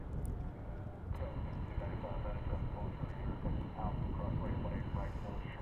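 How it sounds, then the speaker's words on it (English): Via Aerobus Airbus A320neo jet departing Dallas-Fort Worth airport, a steady broadband engine roar that holds at a constant loud level throughout, with a faint high whine joining partway in. "we check out this Via Aerobus A320neo departing Dallas-Fort Worth for Monterey"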